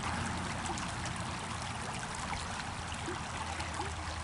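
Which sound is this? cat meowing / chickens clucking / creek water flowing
creek water flowing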